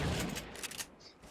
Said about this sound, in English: What an amazing snipe.